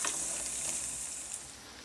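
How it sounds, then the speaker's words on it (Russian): Potato pancakes filled with minced meat fry in a pan, giving a soft, continuous oily sizzle and crackle. The sound is close but fairly quiet, with no voices. "Перевернула и жарю."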